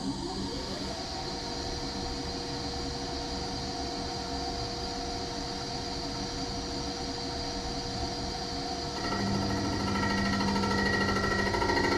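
A resurfacing machine cuts a CAT 3500 cylinder head, giving a steady mechanical whir with tonal hum throughout, stepping up in pitch and loudness near the end as the cut changes.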